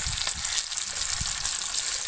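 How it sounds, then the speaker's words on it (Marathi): A whole halwa (pomfret) fish fries in oil on a small tawa pan, giving a soft, steady close sizzle with faint crackles and occasional low bumps, no talking. "एका वेळेला एकच हलवा फ्राय करू कारण की आपला तवा आहे तो छोटा आहे."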